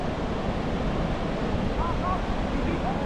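Sea waves wash steadily onto the beach at Ilha Comprida with a rising tide, a continuous soft surf roar mixed with wind noise, no talking.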